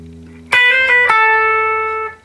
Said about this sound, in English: Hit the low E, let it ring